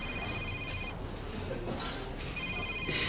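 A mobile phone rings in a quiet domestic room, a thin repeating electronic tone that sounds twice with a gap between, faint under room noise and a brief voice.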